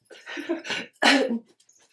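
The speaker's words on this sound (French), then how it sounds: "C'est mon chien qui s'éclate à faire des roulis-boulis dans le lit." A dog rolls around playfully on a bed, giving several short snuffling, huffing bursts and rustles close by, then a brief quiet pause.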